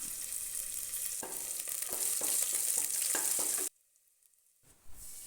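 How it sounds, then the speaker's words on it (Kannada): Steady close sizzling of a tempering with dried fenugreek leaves stirred in a pan, with scraping stirs, then the sound cuts out abruptly to near silence before a faint clatter. "ಒಗ್ಗರಣೆಗೆ ಸ್ವಲ್ಪ ಕಸೂರಿ ಮೆಥಿನ ಸೇರಿಸ್ಕೊಂಡು ಒಂದು ನಿಮಿಷಗಳ ಕಾಲ ಮಿಕ್ಸ್ ಮಾಡ್ಕೋಬೇಕಾಗುತ್ತೆ"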